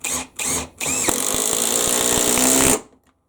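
A Bosch impact driver on top speed sinks a 35mm 14-gauge stainless steel hex-head tech screw with no pre-drilled hole, starting with three short bursts, then a continuous close, loud rattling hammer for about two seconds before stopping.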